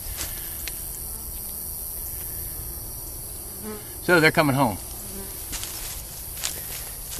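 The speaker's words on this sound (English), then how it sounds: "So we got bees in this one." A honeybee colony settled in a swarm trap buzzes steadily at close range, with a louder burst of wingbeats partway through and someone speaking briefly over the hum.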